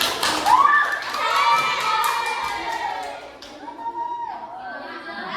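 Children in a classroom clap and cheer loudly at the close of a lesson, a dense burst of shouts and applause that fades after a few seconds into scattered young voices and chatter.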